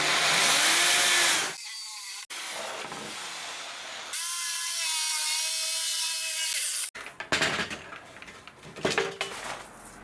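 A power sander rounds off the edges of a catamaran bulkhead, its loud, close, continuous whine breaking into separate bursts and pauses, followed by scattered knocks and handling noises.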